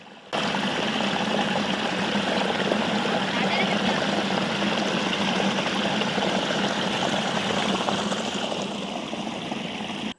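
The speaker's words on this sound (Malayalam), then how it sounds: "ഈ വെള്ളച്ചാട്ടത്തിൻ്റെ ശബ്ദങ്ങളൊന്നും കണ്ണടച്ച് കേട്ടു നോക്കിയേ" A waterfall near a pond rushes in a loud, constant roar of falling water that fills the whole stretch without pause.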